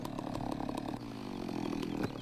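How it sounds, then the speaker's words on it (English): Chainsaw in Farming Simulator 17 on the Pacific Northwest map, cutting a tree stump. The engine holds a loud, steady buzzing drone with slight pitch shifts throughout. "So let's whip out the chainsaw, turn this over."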